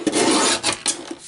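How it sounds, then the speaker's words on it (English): A paper guillotine slices through a piece of card with a close, loud rasping scrape lasting about a second, broken by a couple of brief catches. "Bring up my guillotine and cut a piece of card"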